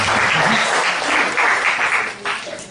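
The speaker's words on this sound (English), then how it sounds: "Can you please give a clap for" An audience at a product demonstration seminar breaks into applause, a brief burst of dense clapping, loud and close, that fades at the end.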